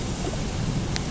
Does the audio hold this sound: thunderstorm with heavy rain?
yes